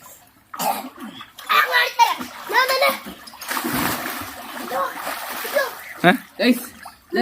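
Children splash and dunk in a homemade backyard swimming pool, with close watery splashes mixed under lively kids' chatter, coughing and laughter.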